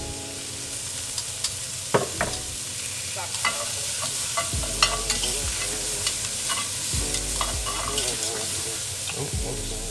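Oil sizzles steadily in a pan for birria tacos while a utensil stirs and scrapes, with sharp clinks and pops throughout, loud and close.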